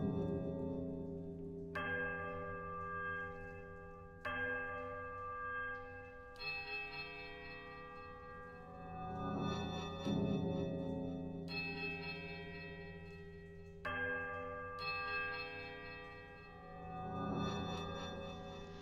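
Bells of differing sizes are struck in turn in a bell puzzle in Pillars of Eternity. The strikes are separate and resonant, each ringing out with long overtones before the next one lands, about every two to three seconds.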